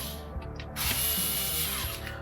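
A small handheld drill whirs while backing screws out of a Jeep Grand Cherokee dash fascia, a low idle hum rising into a loud, steady high-pitched spin up close, with no talk.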